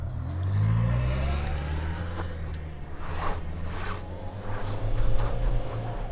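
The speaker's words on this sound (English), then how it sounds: "3, 2, 1, floor it." A 2025 Subaru Forester Hybrid accelerates hard from a standstill in drive with X-Mode engaged, its engine note rising loudly and steadily over several seconds with a surging, strained drone and no talking.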